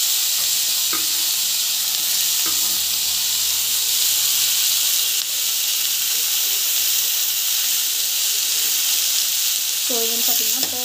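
A mushroom masala gravy with tomato sautés in a pan, giving a loud, steady sizzling hiss throughout, with a few soft stirring scrapes and a brief clatter near the end.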